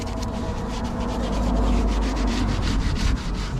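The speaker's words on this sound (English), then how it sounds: "I'm just using that old sponge just to agitate all the built on dirt." An old sponge scrubs built-on dirt off an Audi TT MK1 wheel, a steady close rasping rub with quick repeated strokes over a low background hum, no voices.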